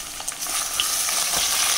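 Chicken pieces dropped onto lightly browned onions in a pot, giving a loud, continuous close-up sizzle and hiss with faint stirring.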